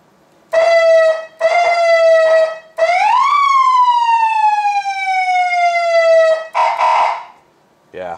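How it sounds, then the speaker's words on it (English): Emergency lightbar siren runs loud and close in steady wails: three short rising-falling bursts, then one long sweep that climbs and slowly falls, followed by a brief harsher blast and a short tail. "This thing will only run the siren when 3rd position"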